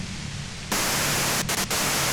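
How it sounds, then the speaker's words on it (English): Harsh radio white-noise static from Disco Elysium that jumps abruptly from a softer hiss to a loud, full wash of noise, with two brief dropouts, steady and close. "you can do it through the white noise"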